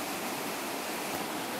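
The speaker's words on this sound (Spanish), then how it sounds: "Ya estamos en el río, a orillas del río." A river flows past its bank, giving a steady, even rush of water that holds at a constant level throughout, close by and unbroken by voices.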